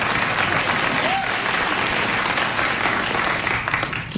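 A late-night talk show studio audience breaks into sustained, dense clapping that fills the room, with no voices over it.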